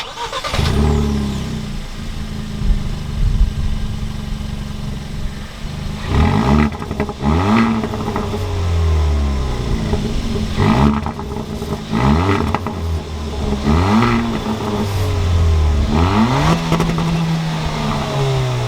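A 2022 Kia Forte GT accelerates and shifts repeatedly, engine revs climbing in surges with brief drops between gears, loud and close from inside the car, no voices.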